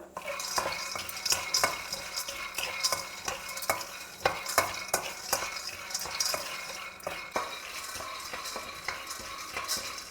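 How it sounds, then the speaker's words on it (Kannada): Peanuts dry roasting in a kadai rattle and scrape steadily as they are stirred, with frequent sharp clicks of the spoon against the pan throughout, close and continuous with no talking. "ಸೊ ಇವಾಗ ಶೇಂಗಾನ ಡ್ರೈ ರೋಸ್ಟ್ ಮಾಡಿಕೊಂಡು"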